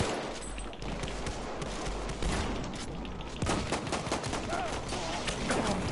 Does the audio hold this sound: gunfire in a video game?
yes